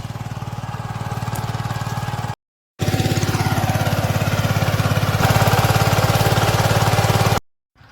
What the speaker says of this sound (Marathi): ट्रॅक्टर गेला बघा त्याकडेला आता